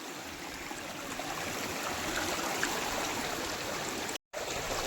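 Water pours steadily over a dam in the Barda hills after recent rain, a continuous rushing wash that stays even throughout, with one brief dropout near the end.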